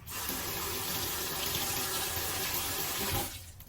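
Water gushes steadily from a tap while something is rinsed in a sink, a loud, continuous close splash that stops abruptly near the end.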